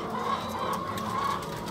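Battery hens kept in overcrowded wire cages cluck in short, overlapping bursts, moderately close, with no talk.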